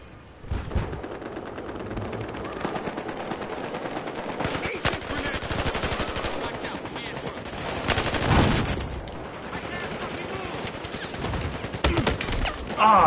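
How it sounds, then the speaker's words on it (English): Rapid bursts of automatic gunfire crackle continuously in the video game Battlefield Hardline, with heavier volleys now and then, loud and close throughout. "Hearing shooting, you can't see it."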